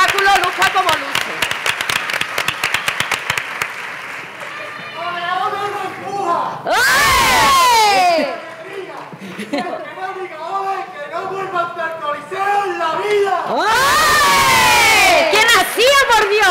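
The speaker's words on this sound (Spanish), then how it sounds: "un fuerte aplauso para este equipo" A carnival audience cheers and claps loudly for a performing carnival group, with bursts of shouting and applause rising twice over lively crowd chatter and excited voices nearby.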